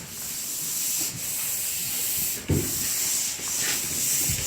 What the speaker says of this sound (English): but they're in the process of sanding.